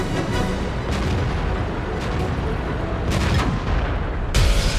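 Tank cannon fire from a World of Tanks battle, armor-piercing shells launched in a dense run of heavy booms and blasts over a constant rumbling din of battle, with no talk.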